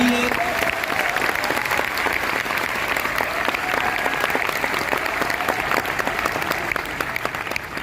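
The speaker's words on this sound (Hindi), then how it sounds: "उनके लिए एक तालियां रिकॉर्ड कर लें अपन" Loud, dense applause from a large audience at an RCM gathering in Bhilwara, sustained and even for several seconds with a faint crowd murmur underneath.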